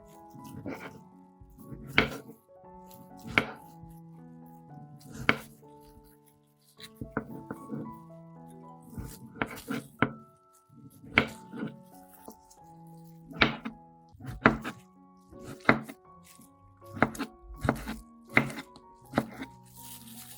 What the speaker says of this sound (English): After peeling the tomatoes, I chopped them into small pieces.